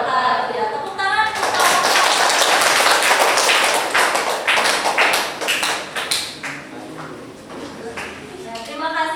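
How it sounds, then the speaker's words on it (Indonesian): A classroom audience of schoolchildren claps after a student presentation, a dense burst of many hands that tapers off into scattered claps, with some voices mixed in. "tepuk tangan"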